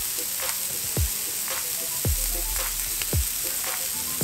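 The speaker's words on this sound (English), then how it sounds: "These are grilling nicely," Smash burger patties sizzle on a Camp Chef griddle, a dense, steady frying hiss close up. A few low thumps and knocks from a spatula or utensil land about once a second, and no one speaks.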